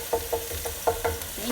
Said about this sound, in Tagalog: Nasangag na ang iyahang ginger and garlic paste.